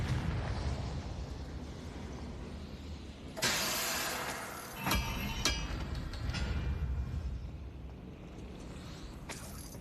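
A Confringo blasting spell exploding in Hogwarts Legacy, a loud burst over a rumbling background, followed by a few sharper cracks and pops, with no talk.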